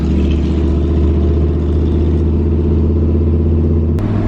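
A steady, loud engine drone with road rumble fills the clip, an old K30 pickup truck cruising on a highway at 65 mph and 2,500 RPM, with a brief click near the end.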